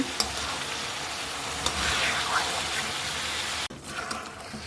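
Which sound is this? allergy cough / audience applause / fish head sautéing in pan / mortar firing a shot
fish head sautéing in pan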